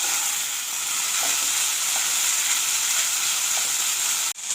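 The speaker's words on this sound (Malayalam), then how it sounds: "പയറിനകത്തുള്ള വെള്ളമെല്ലാം നന്നായിട്ട് വറ്റണം, അതുവരെ നമ്മളിങ്ങനെ ഇളക്കി കൊടുത്തുകൊണ്ടേയിരിക്കണം" Long beans being stirred as they fry in a pan for a Kerala mezhukkupuratti, a steady close sizzle with a few faint scraping taps of the spoon and a sharp clunk near the end, no talking.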